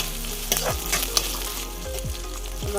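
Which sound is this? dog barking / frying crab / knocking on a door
frying crab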